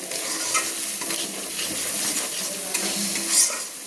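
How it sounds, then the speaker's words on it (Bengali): Ground spices frying in oil in a pan over a very low gas flame for chicken do pyaza, a steady close sizzle with soft stirring scrapes throughout and no voices. "গ্যাসের ফ্লেমটা একদম লো করে মশলাটা আমি কষিয়ে নিচ্ছি।"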